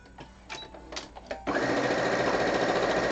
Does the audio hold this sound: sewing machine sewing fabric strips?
yes